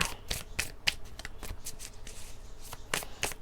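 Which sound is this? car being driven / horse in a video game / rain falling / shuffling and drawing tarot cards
shuffling and drawing tarot cards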